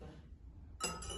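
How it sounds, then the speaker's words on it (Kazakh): A metal spoon drops into a drinking glass with one bright clink near the end, which rings briefly after a quiet stretch of faint room noise. "Бір стақанға салайық қасықты."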